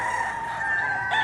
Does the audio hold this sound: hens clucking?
yes